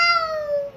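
A child imitates a cat's meow, a single short, clear high-pitched call that slides slightly downward and fades within a second, heard alone.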